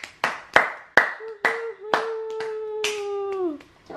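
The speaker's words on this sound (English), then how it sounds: "We'll clap for you while you take a bow." Family clapping at home for a small child as she takes a bow: a string of sharp, close hand claps at an uneven rhythm, joined midway by a sustained high-pitched vocal tone from the child.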